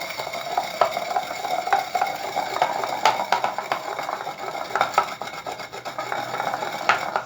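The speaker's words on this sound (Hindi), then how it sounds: "अब इसके अंदर मैं ये 1 प्याली मीठी दही जो है वो ऐड कर रहा हूँ और अब बड़ी एहतियात से आराम से इसको बीच में मिक्स करूँगा" Sweet yogurt being mixed carefully into mint chutney in a bowl, a close run of soft scraping and rubbing spoon strokes in an uneven rhythm, with no talk.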